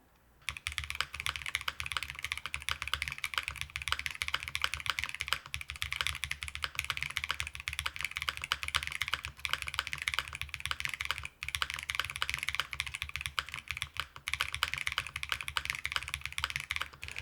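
Steady, fairly quiet typing on a QK65 Mk3 mechanical keyboard, a continuous stream of soft clacky keystrokes with occasional heavier spacebar thuds, close-up and without voices.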